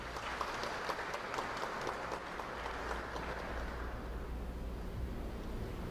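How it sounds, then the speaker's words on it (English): An audience at a college prize-giving ceremony applauds, a dense, sustained wash of clapping from a crowd in a hall that fades and thins toward the end, with a low rumble underneath. "Let's give her another round of applause."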